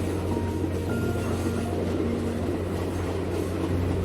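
A slow green passenger train rolls through the 6,379-metre Samalada Tunnel in China's Daliang Mountains, giving a dense, steady low roar with faint tonal whines that carries evenly throughout, with no one talking.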